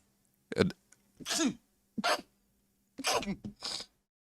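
Several close, explosive sneezes fire off one after another, separated by brief pauses and quick inhales.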